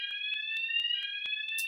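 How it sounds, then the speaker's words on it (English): An alarm goes off with a steady high-pitched electronic tone, cut by rapid regular pulses, sounding alone and fairly loud throughout. "Well, there's the alarm going off."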